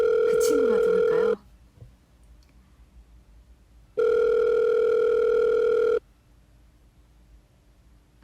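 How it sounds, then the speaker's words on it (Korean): Telephone ringback tone on an unanswered call, two long electronic rings separated by a few seconds of near silence, loud and close. "전화를 안 받네요."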